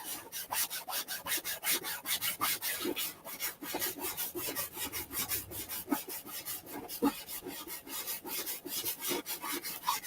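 Wood being sanded by hand in quick, regular back-and-forth strokes, a close, dry rasping rub repeating steadily with no voices.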